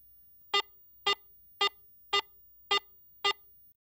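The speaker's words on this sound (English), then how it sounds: "Listen to the medium tone in standard mode" Six evenly spaced electronic beeps from a Garrett AT Pro International metal detector sounding its medium tone in standard mode, clean and close against a quiet background.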